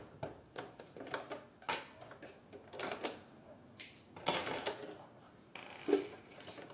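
A sewing machine stitches a synthetic leather double wallet, giving quiet, irregular bursts of mechanical clatter and ticking that start and stop in short runs.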